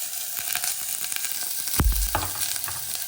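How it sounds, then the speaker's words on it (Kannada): Chopped vegetables fry in a pan for chicken soup: a short, close burst of sizzling with a clatter of stirring midway, and no voices. "ವೆಜಿಟೇಬಲ್ಸ್ ಎಲ್ಲ ಸ್ವಲ್ಪ ಚೆನ್ನಾಗಿ ಫ್ರೈ ಮಾಡ್ಕೊಳ್ತೀನಿ."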